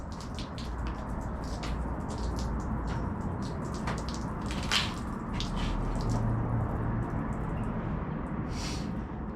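Water drips and trickles from a Toyota 1UZFE V8 engine part in a series of irregular close splats and patters over a faint background hiss.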